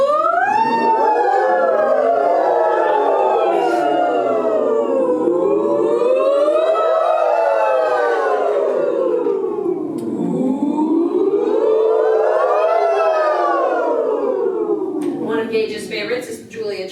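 A group of choir voices imitates a siren in a warm-up, sliding pitch up and down in long rising and falling sweeps, loud and continuous throughout.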